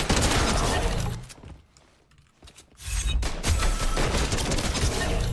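Dense video game gunfire fills the opening second, drops out to near silence for about two seconds, then returns as loud, continuous overlapping shots through the end.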